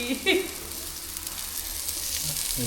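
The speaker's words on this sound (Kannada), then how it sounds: "ನಂತರ ಎಣ್ಣೆ ಕಾಯ್ದ ನಂತರ ಈರುಳ್ಳಿಯನ್ನು ಹಾಕಿ" Onions hit hot oil in a steel pan in a village kitchen, a brief hiss at the start settling into a steady, soft sizzle that carries on underneath a voice.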